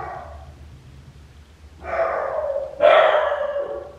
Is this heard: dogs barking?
yes